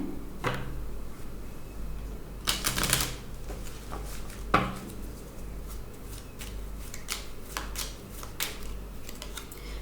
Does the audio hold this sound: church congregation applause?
no